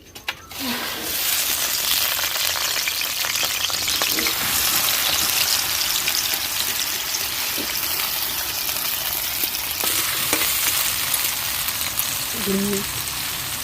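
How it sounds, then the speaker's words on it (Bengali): Potatoes drop into hot mustard oil and set off a loud, continuous, close frying hiss with crackling bursts that holds steady throughout, with a few faint thumps underneath. "তেলটা গরম হয়ে গেলে প্রথমে আলুটা ভেজে নেবো লাল লাল করে।"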